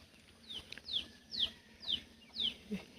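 Chickens kept on a farm beside a fish pond give a run of about five short, bright chirping calls at a steady pace, moderately close over a soft outdoor background.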